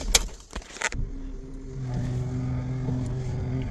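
Engine idling in a 2011 Buick with a power steering noise, a steady low hum with tonal whine layered in after a few sharp clunks and handling sounds at the start.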